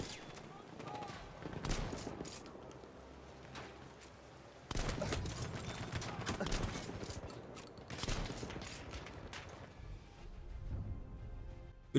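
Bursts of gunfire from the Battlefield 1 video game, rapid repeated shots in clusters with short pauses between them, fairly faint, with a voice talking over part of the action.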